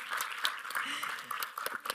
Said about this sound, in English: so can we have a round of applause for him?